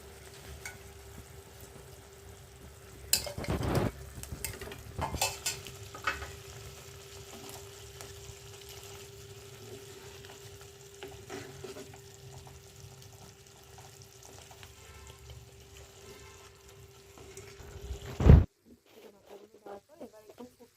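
Vegetable chorchori with mustard and fried fish heads sizzles and bubbles steadily in a pan, with scraping stirs and clanks of a spoon against the pot, then it cuts to quiet near the end.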